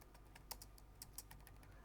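Quiet typing on a computer keyboard: a steady run of light, rapid key clicks with a few sharper presses standing out, heard close up with no talking.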